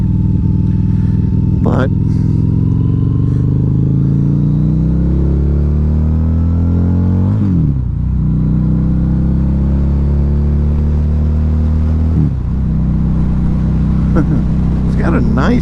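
A 2012 Harley-Davidson V-Rod Muscle motorcycle engine runs loud and close, its deep rumble rising and falling through several revs, with someone talking over it.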